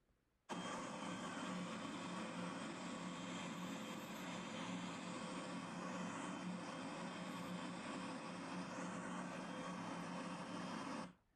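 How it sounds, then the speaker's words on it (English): Steady, loud broadband roar of an airplane cabin, a constant engine and air hum played back for testing Apple AirPods 4 noise cancellation, starting abruptly and continuing unchanged before cutting off. "play the same sound again with the airplane noise"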